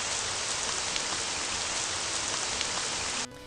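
A looping rain background sound effect from RPG Maker VX Ace, a steady dense hiss of rainfall on surfaces at even loudness throughout, ending abruptly with a drop to quieter rain.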